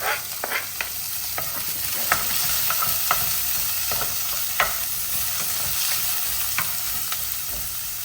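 Spices temper in hot oil for a homemade chicken curry, giving a steady close sizzle with scattered sharp clicks and scrapes of stirring throughout and no talking.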